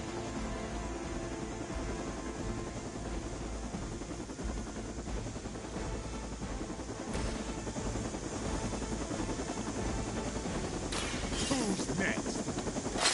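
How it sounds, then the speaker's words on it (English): A helicopter in the video game Midnight Suns thrums steadily beneath constant game combat noise, with bursts of gunfire-like clatter, rising slightly toward the end. "Stop that helicopter."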